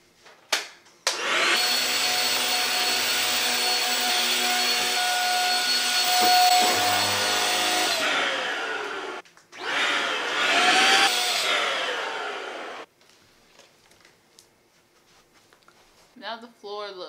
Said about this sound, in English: I need to vacuum really quick.